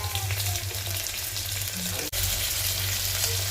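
Tomato added to ginger garlic paste frying in a pan for vegetable biryani, a dense steady sizzle with low bubbling underneath, briefly cut by a sharp dip just past the two-second mark.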